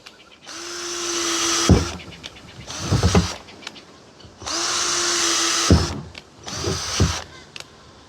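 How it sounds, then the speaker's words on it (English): A power drill bores holes through a thick plastic barrel: two long whining runs alternate with shorter bursts, loud and close, with brief quiet gaps between. "All I'm doing is drilling sufficient holes all the way around it that air should be able to flow through it."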